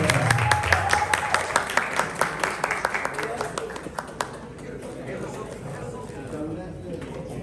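Spectators at a tournament final and awards ceremony applaud the finalists with sharp, distinct claps that are strong at first and thin out, while a voice speaks over them.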